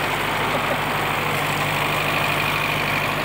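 The 1.6 litre engine of a 1929 Citroën C4 idles nearby with a constant low hum and a faint, even beat, holding steady throughout.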